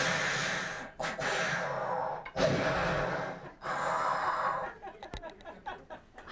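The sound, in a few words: voice imitating Darth Vader breathing through an oxygen tank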